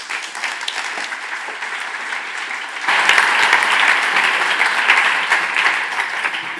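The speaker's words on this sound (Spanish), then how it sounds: "Un aplauso." An audience at a science talk breaks into applause that swells sharply midway to a loud, dense, sustained clapping that carries on to the end, with no talk over it.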